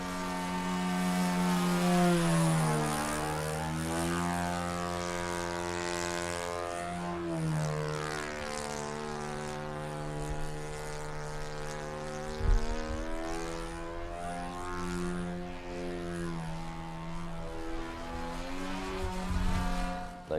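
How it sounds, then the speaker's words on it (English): Several radio-controlled model airplanes, aerobatic and trainer types, fly over a club field, their small propeller engines whining steadily with rising and falling pitch as they pass, loud and continuous for the whole stretch. "They just fly different planes, aerobatic, trainers, just all different makes and kinds."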